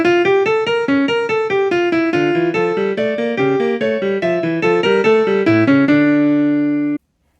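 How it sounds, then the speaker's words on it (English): Jazz line played in straight, even notes, a steady run of evenly spaced tones stepping up and down before ending on a long held note, loud and clear with no talking. "Instead of straight, even notes,"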